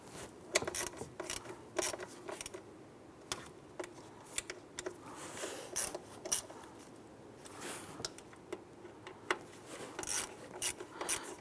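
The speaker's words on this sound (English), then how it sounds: "just going to use my ratchet and just gently snug" A ratchet gently snugs the throttle body bolts on a 2015-2020 Cadillac Escalade, quick runs of soft clicking ticks and rasps, close and faint, with no talk.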